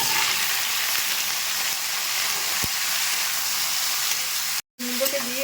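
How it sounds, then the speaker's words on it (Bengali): Pumpkin frying in a pan with oil, onion and garlic, a steady hissing sizzle that holds nearly throughout, close and moderately loud, with a brief cut near the end followed by a faint voice. "একটু ভেজে নেব কুমড়োটা"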